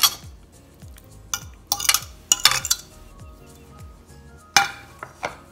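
Marinated fish pieces are tossed and mixed in a bowl for dhaba-style fish fry, giving a series of light clinks and taps of utensil against the bowl, spaced irregularly and fairly close.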